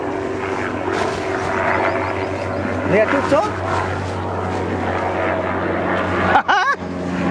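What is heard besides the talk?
helicopter flying overhead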